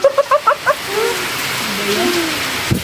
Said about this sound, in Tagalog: Ayan, lakas na ng hangin at ulan.